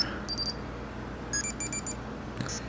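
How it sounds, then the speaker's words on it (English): Short bursts of high, tinny electronic alarm beeps from an iPod Touch's internal speaker, repeating in a quick pattern, small and thin, over faint hiss. "There's a couple different sounds they play over the iPod's internal speaker."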